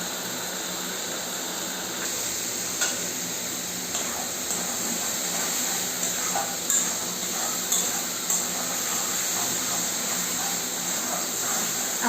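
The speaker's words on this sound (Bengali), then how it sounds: "আপনারা এইভাবে সুন্দর করে সবকিছু দিয়ে মশলা দিয়ে এইভাবে কষিয়ে নেবেন" Spices for Bengali chicken curry, with cumin powder, turmeric and salt, sauté in oil with a constant hiss and sizzle, punctuated by occasional clinks and scrapes of a utensil stirring in the pan, close and moderately loud.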